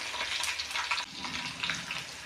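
Chopped onions fry in a hot pan on a gas stove, a steady loud sizzle with bubbling crackle that runs unbroken through the short stretch.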